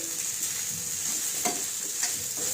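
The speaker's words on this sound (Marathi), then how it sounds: "आता मीठ टाकल्यानंतर व्यवस्थित आता मी साबुदाणा मिक्स करून घेणार आहे." Salted sabudana khichdi of tapioca pearls being stirred and fried in a pan with oil, a steady close sizzle broken by a few scraping strokes of the spoon.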